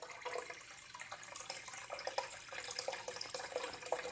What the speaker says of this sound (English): This fall of the water is very good for fish as it simulates rain.